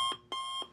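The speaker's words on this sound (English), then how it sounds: "Perhaps your day started when the sound of your alarm clock woke you up." An alarm clock rings in three evenly spaced electronic bursts, each a bright, buzzing tone repeated about every third of a second, fairly faint and with no voices.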